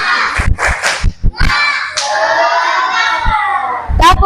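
A classroom doing the 'tepuk semangat' rhythmic clapping chant: sharp, close handclaps in a quick patterned sequence, then a sustained group vocal passage and a final burst of claps.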